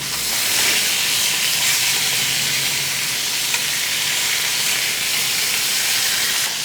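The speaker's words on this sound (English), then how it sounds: "I'm gonna go ahead and flip the pork" Pork sears in a hot pan with butter and enoki mushrooms as it is flipped, giving a loud, continuous sizzle and crackle of frying that stays steady throughout.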